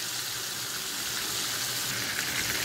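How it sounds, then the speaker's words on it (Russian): Meat cutlets fry in a pan with a dense, steady sizzle of hot oil, close and even throughout with no speech. "Обжарили с одной стороны, переворачиваем на другую."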